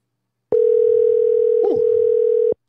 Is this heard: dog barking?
no